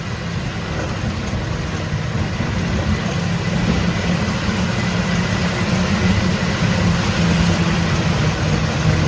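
Car engines idle and run on a flooded street, a continuous low rumble holding steady and close without speech.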